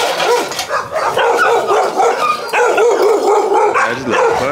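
Several puppies bark and yip in quick bursts, close by and loud, with some higher whining yelps mixed in.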